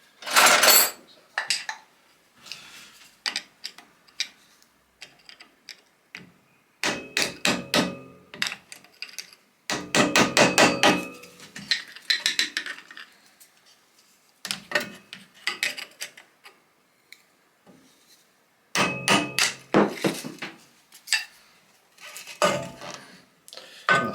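Old screwdriver prying and tapping on parts of a Moulton Deluxe bicycle: scattered close metallic clinks, scrapes and taps in irregular bursts with quiet pauses, fairly faint overall.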